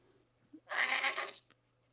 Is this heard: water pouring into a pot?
no